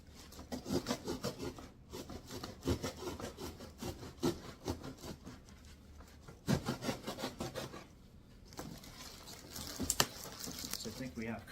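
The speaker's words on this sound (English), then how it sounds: "I'm going to cut down this side of the box" A blade cuts down the side of a cardboard box holding an Amazon Basics kids table and chair set, making repeated scraping, rasping strokes close by with a faint voice at times.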